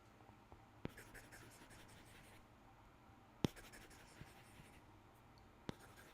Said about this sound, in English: it almost even sounds like you're using a pencil on paper